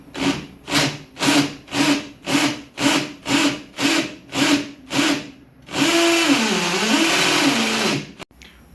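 A power drill with a 6 mm bit bores into a wall in about ten short, evenly spaced pulses, then runs in one long sustained grinding whine that dips in pitch under load before stopping.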